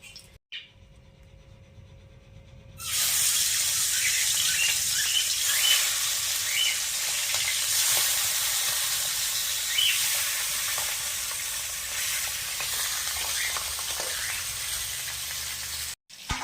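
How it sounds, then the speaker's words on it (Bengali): Fish sizzling and frying in mustard oil in a wok over a lit stove, a loud steady crackle that starts abruptly after a quiet moment and continues unbroken, with faint bird calls in the background. "মাছগুলো প্রথমে ভেজে নেব উনানটা ধরিয়ে নিয়েছি এবারে কড়াতে সরষার তেল দিয়ে দেবো"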